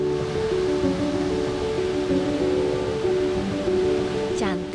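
Curug Cikante, a tiered waterfall running down rock cliffs in Ciletuh Geopark, gives a steady broadband rush, loud and close, with a brief higher warbling sound near the end.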